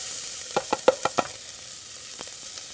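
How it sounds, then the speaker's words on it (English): Chopped onion hitting hot olive oil in a pot, giving a run of five quick scraping, stirring clatters over a steady low sizzle, then quieter frying with a couple of faint knocks, close and moderately loud with no talking. "And now we're going to add some chopped onion to that."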